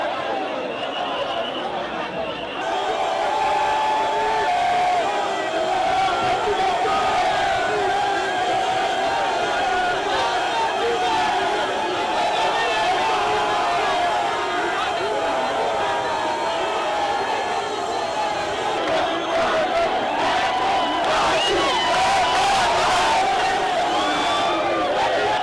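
A dense crowd at a presidential campaign rally in the DRC, with a continuous loud roar of cheering, chanting and shouting voices throughout, a steady wall of crowd noise near and far.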